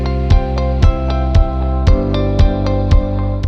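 Generic corporate-style stock music plays loud and steady, with a bright repeated keyboard or plucked figure over sustained chords and a regular accented beat roughly every half second, with no voices.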